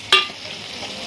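Chopped tomato drops into hot spiced oil in a pan, giving a sharp clatter followed by a steady, close sizzle as it is stirred.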